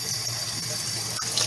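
Running tap water pours steadily over a plate in a sink, a continuous close splashing hiss with no one speaking.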